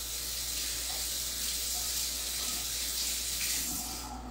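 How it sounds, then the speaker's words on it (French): Running water from a kitchen tap pours steadily as hands are rinsed under it, a continuous close splashing hiss with no talk. "Je vais juste me rincer les mains et faire le tirage avant."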